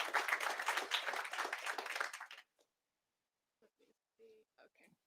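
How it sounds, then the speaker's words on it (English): Applause and clapping from an audience at a startup pitch event, broad and sustained for about two seconds, then cutting off to near silence with a few faint scattered sounds. "And now I'll please give a warm applause to Katrin"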